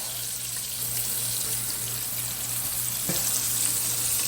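Thick pieces of channel catfish fry in hot oil, a steady close broadband sizzle with a low hum running under it and one brief clack partway through.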